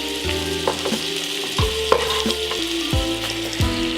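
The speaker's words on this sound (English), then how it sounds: "So what I'm gonna do is take all my onions and I'm gonna throw them into the pot. Do a nice stir fry." Onions sizzle and crackle as they stir fry in a pot, with a loud continuous hiss broken by scraping stir strokes and utensil knocks against the pot, and no voices.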